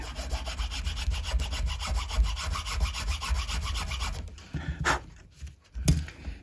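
A small file rasps back and forth in rapid, even strokes through the nut slots of an early vintage left-handed Stratocaster, close and steady, then stops and gives way to a couple of brief knocks.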